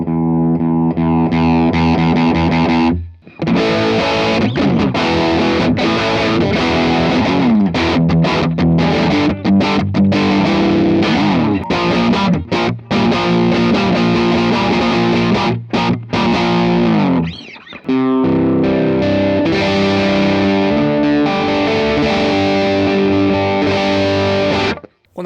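Guitar through a Strymon Iridium amp simulator with the drive pushed into its heavy top-boost tone, loud saturated distorted chords and riffs ringing continuously with a few brief pauses, no talking.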